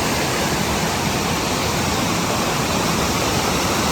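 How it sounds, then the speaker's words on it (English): Mouse Creek Falls on Big Creek in the Smokies, with cascades just below, pours with a dense, steady broadband rush of falling water, loud and unbroken throughout. "Got some more cascades just below the falls."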